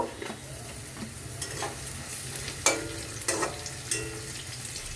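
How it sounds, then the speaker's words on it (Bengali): Garlic frying in a pan with onions already fried red, a soft continuous sizzle broken by a few sharp stirring clinks and scrapes. "একটু রসুনটা ভাজা হবে"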